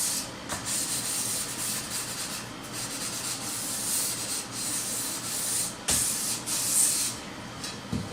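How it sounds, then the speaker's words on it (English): Fine 600-grit sandpaper rubs lightly and steadily along the edges of a composite beam, a soft continuous hiss with gentle strokes, close by. "finish up the edges with a little light sanding, 600 grit"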